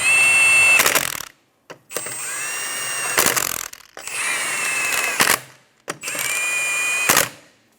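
A power tool tightens the wheel lug nuts on a 2007-2012 Nissan Altima in four loud, close, whirring bursts of about a second each, separated by short silences.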